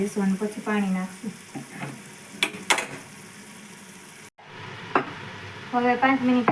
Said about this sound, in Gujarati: મસાલો આમાં તળવા દઈશું અને પછી પાણી નાખશું.